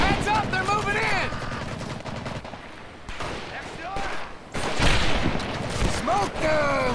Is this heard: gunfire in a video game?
yes